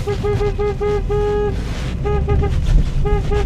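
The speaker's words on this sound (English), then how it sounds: "I should put the camera back and start honking." A car horn sounds at a rally in a series of short toots, then a long held blast, followed by more quick honks, loud and near over steady road and crowd noise.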